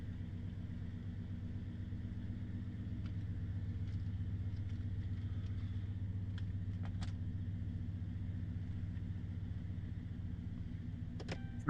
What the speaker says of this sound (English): Truck's running.